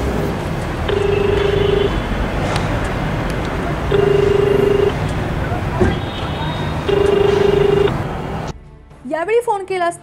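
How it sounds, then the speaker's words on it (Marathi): Mobile ringback tones pulse three times while a call goes to a police station, each tone lasting about a second with gaps between, over traffic and street noise, followed by a short burst of speech. "यावेळी फोन केला असता मोबाईलवर रिंग वाजल्याचा आवाज येत होता"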